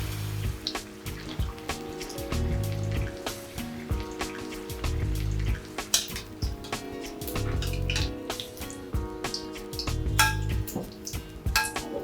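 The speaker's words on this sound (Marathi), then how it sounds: "ही अशा पद्धतीने बुडवून घ्यायची आहे आणि त्यानंतर आपण ती तेलात सोडणार आहोत" Paneer and cheese stuffed chilli fritters dipped in batter fry in hot oil, a dense, busy sizzle and bubbling with frequent small crackles and occasional utensil clinks, heard steadily at close range without talk.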